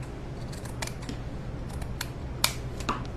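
Scissors snip through burlap in a close, quiet craft setting, giving a series of crisp, irregular clicking cuts with a few louder snaps near the end.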